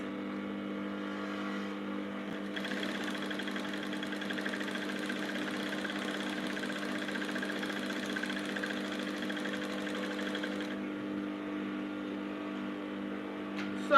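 Sewing machine stitching fabric for short pants, a steady electric hum that rises into a higher whirring run of stitching for several seconds before settling back to a low drone.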